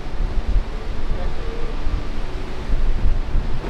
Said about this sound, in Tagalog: Sobrang lakas na rin po ng hangin.